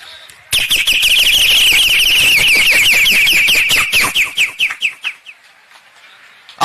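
A high, shrill voice imitates a bird with a rapid run of chirps that gradually slows and fades, ending in a few scattered tweets.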